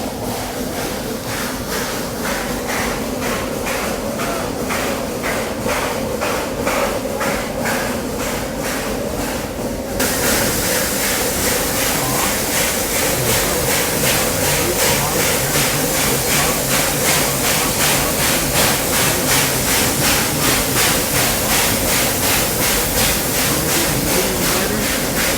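Heritage train at Roaring Camp running along its tracks, giving a steady rhythmic clatter and rumble that continues loud and close the whole time and grows fuller and brighter partway through.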